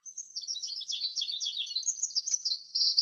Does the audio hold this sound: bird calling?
yes